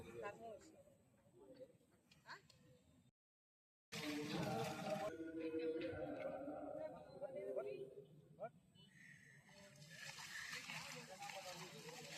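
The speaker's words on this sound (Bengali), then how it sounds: "খুব সহজে এই মহিষগুলি আসলে পানিতে নেমে যায়, পানি তাদের পছন্দ।" Water churns and splashes as buffaloes wade into a muddy river, with people talking nearby and a brief moment of near silence.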